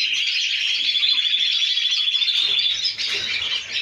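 A yellow-crested songbird in an aviary sings a continuous, bright, trilling warble close by, loud and steady, with a brief dip near the end and no talking.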